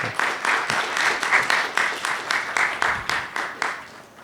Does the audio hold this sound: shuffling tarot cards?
no